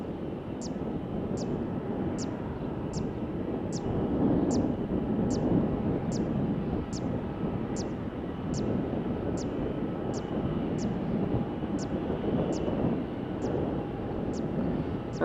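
A United Boeing 757 at Faro Airport gives a steady, distant jet roar and rumble under wind noise, with a regular high ticking pulse repeating about every half second.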